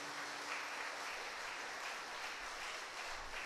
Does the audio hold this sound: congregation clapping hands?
yes